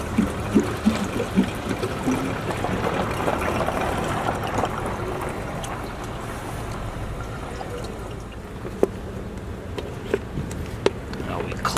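Water trickling and pouring into a Helio portable shower bag outdoors, a steady close watery gurgle with a few scattered clicks and handling noises, no talking.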